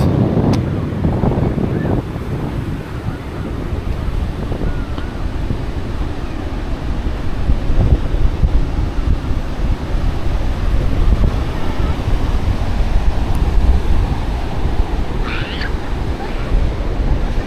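Strong wind buffets the microphone while waves wash in continuously at a public beach in Vung Tau, Vietnam, a loud steady roar throughout.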